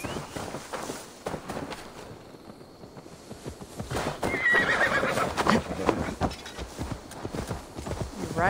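A horse in Assassin's Creed Valhalla gives a loud whinny over the clip-clop of hooves, with steady hoofbeats continuing close by as the neighing rises and falls.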